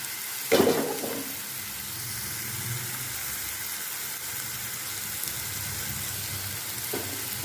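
Chicken pieces dropped into a pan of softened onions for Begmati chicken, a sudden loud splash and hiss at the start settling into a steady, even sizzle that carries on with a faint scrape near the end.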